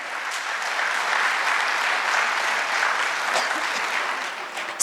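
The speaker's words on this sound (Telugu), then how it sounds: "ఒకసారి సార్కి గట్టిగా క్లాప్ చేద్దామా?" A large seated audience at a family achievers' reunion and training event claps hard and steadily. The applause stays dense and even for several seconds, then a louder burst comes at the very end.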